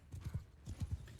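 Horses' hooves clip-clop in Mount and Blade 2 Bannerlord, quick paired thuds in a galloping rhythm, fairly close and moderately loud, with no talk.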